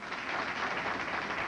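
Brief, steady applause from a crowd, a dense wash of clapping that carries on throughout.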